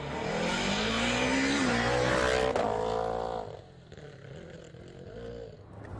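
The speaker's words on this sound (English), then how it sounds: "But heading into the first of the day's stages, Nasser's Fiesta did not sound well" A Ford Fiesta rally car running poorly on a stage of the Rally Italia Sardegna, its engine note rising under strain then dropping away, loud and close, with no talk.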